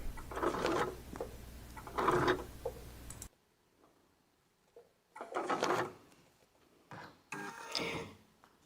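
A domestic embroidery machine stitches a wreath design, with two loud bursts of rapid mechanical stitching up close, a short pause, then further bursts of stitching.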